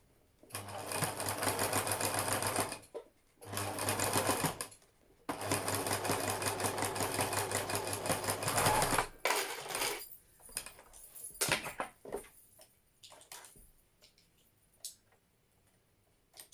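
A sewing machine stitches a fabric face mask in three loud, steady runs of fast mechanical whirring separated by short pauses, followed by softer handling clicks and rustles.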